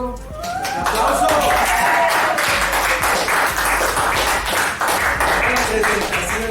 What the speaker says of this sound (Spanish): A mi público, ¡un aplauso!